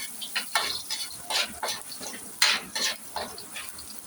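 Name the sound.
garlic frying in hot cooking oil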